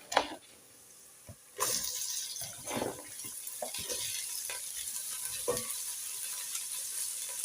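Cabbage dropped into a hot pan for steaming with beans, breaking into a loud sizzle after a quieter start, with scraping stirs and clatters recurring over steady frying hiss.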